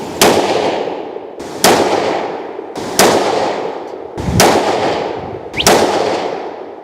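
Five loud rifle shots fired at a target group with 35-grain rounds, evenly spaced about 1.3 seconds apart, each a sharp crack followed by a short fading echo.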